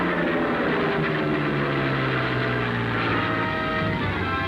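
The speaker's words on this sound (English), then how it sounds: "Contact is made with the low-flying craft." A low-flying World War II-era propeller plane roars nearby, its engine drone loud and steady, the pitch sagging slightly as it passes.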